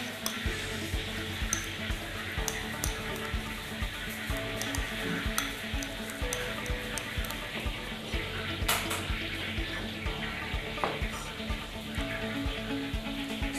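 Garlic and butter being mixed together in a bowl: steady scraping and light clinking of a utensil against the dish, with a low background hum and faint sizzling throughout.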